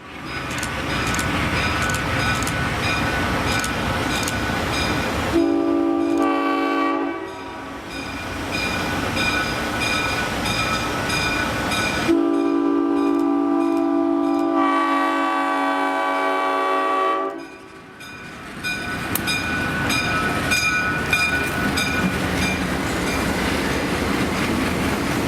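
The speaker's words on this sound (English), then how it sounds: "let's watch as 2 classic M636 locomotives pass our cameras as they throttle up from a speed restriction" Two classic Alco M636 diesel locomotives on the Western New York & Pennsylvania Railroad throttle up from a speed restriction through Port Allegheny, loud and close, with deep engine drone, horn blasts and rolling wheel clatter as they pass.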